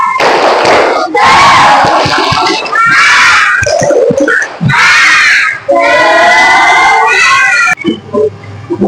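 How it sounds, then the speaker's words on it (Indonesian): A school class shouts a rhythmic tepuk semangat clapping chant together, loud and close, with sharp claps punctuating bursts of children's voices in a classroom. "Kita akan ice breaking tepuk semangat."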